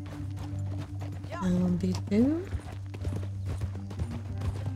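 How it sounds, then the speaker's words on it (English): Horse hooves clip-clopping in Red Dead Redemption 2 as a rider heads through a canyon, a steady rhythmic clatter under a low drone, with someone speaking briefly and a short whinny-like tone midway. "Don't want my horse to spook."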